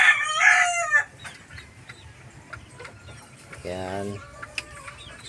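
A dirty pit gamefowl rooster in a backyard lets out a loud, close crow at the start, then gives a short burst of clucking a few seconds later, while someone speaks briefly in between.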